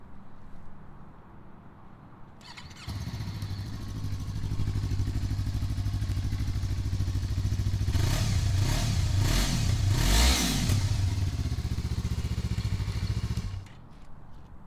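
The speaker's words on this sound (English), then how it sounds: "let's see how this Kaufman exhaust sounds like." A Yamaha MT-03 motorcycle fitted with a Kaufman aftermarket exhaust idles, then revs hard through several rising and falling throttle blips in the middle before settling back. The engine is close and steady, with no talking.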